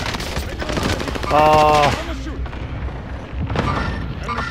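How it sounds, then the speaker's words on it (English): Allied cluster strike explosions in Call of Duty: Modern Warfare on Plunder, a loud rapid string of blasts and gunfire with a tonal in-game sound briefly over it, while a player speaks a few words. "Allied cluster strike."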